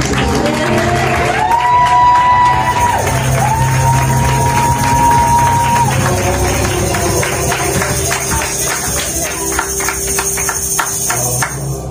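A large church crowd cheers and applauds continuously, with shouts and whistles rising over the steady roar, while music plays underneath.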